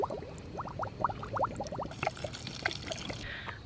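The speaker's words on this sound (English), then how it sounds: "So we will use these to water the fig tree." Water pours from small kids' toys onto a fig tree, giving close trickling and splashing with bubbly gurgles, then a steadier splatter on soil and leaves outdoors.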